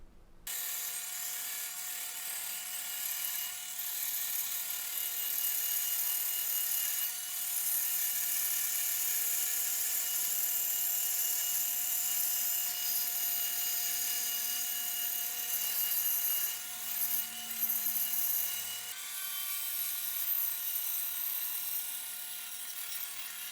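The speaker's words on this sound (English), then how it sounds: "We're going to go on over the bandsaw and cut out this line." A bandsaw cuts a guitar neck blank with a steady, continuous whir and buzz, holding even for over twenty seconds with small changes as the blade feeds through the wood.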